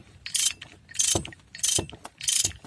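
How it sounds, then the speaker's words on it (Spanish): A hand ratchet tightens the bolt on a Nissan Tiida's front right engine mount. Four evenly spaced bursts of close, crisp clicking come with faint thuds and no talk. "ya solamente aprietan muy bien el tornillo"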